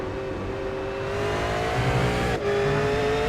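A V8 Supercar at Circuit Gilles Villeneuve droning at high revs. The engine eases off the throttle, then cuts sharply for a moment before picking up again, loud and steady from the onboard view.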